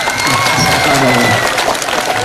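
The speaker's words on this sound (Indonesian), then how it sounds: "Tepuk tangan." Students at a school Maulid Nabi celebration clap in a dense burst of applause filling the room, with crowd voices mixed in.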